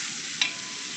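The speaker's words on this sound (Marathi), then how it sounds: "तर आता डाळ तडका चालू आहे आणि मूग डाळ आहे" Moong dal tadka being tempered in a pan, a steady close hiss of frying spices throughout with a brief sharper crackle partway.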